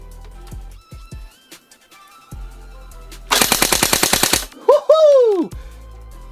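An Ares Thompson M1928 blowback airsoft gun fires a quick burst of sharp, clattering shots up close, after a few handling clicks, followed by a loud whooping shout.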